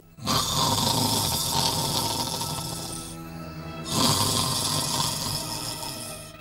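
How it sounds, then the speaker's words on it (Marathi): Guards asleep and snoring, two long rasping snore breaths separated by a brief gap, fairly quiet and steady with no talk. "त्याच्या लक्षात आलं की पहारेकरी घोरायला लागलेत"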